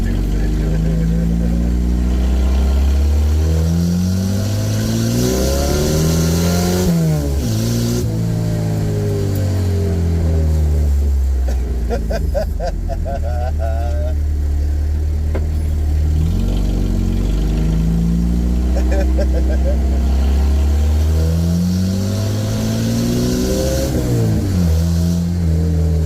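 A budget Chevrolet S10 pickup with no cab mounts is heard driving, its engine revving up and down through repeated loud cycles from inside the cab, with no pause in the noise.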